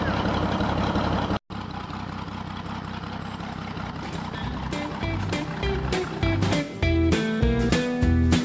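An Oliver 77 antique tractor engine runs steadily and fairly loud through the whole stretch apart from one brief dropout, its low rumble joined later by harmonic tones and changes in engine note.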